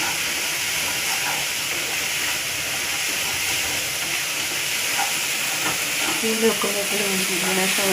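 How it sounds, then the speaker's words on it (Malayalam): Onions frying until brown for ulli theeyal, a loud, steady close-up sizzle and hiss with occasional stirring scrapes and clinks toward the end. "ഇപ്പോഴത്തേക്ക് നമ്മൾ ഉള്ളിയൊക്കെ ഇങ്ങനെ നല്ലോണം ഒന്ന് ബ്രൗൺ കളറാകണം"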